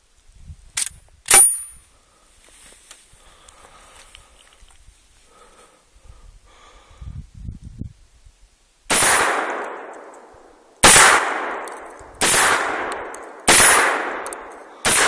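A Remington Model 11 shotgun fires outdoors, with loud, sharp blasts that boom and trail off. Two quick reports come near the start, then after a quiet stretch five more shots follow at roughly one-to-two-second intervals.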